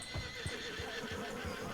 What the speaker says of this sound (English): Oh, look at all the horses.